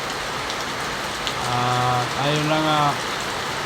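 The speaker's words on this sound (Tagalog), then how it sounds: "Patuloy na umuulan dito." Steady rain falls outdoors in Bangued, Abra, during flooding, a dense continuous hiss filling the scene while someone speaks briefly over it.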